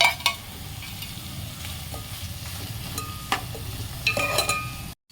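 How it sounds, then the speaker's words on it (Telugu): Fried dried fish stirred into a pan of cooked capsicum curry seasoned with Guntur chilli powder, giving a steady close sizzle with scraping stirs and a few sharper clinks, stopping abruptly at the end. "ఇప్పుడు దీంట్లో మనం ఫ్రై చేసి పెట్టుకున్న ఎండు చేపలు ఉన్నాయి కదా, ఇవి యాడ్ చేసేద్దాం"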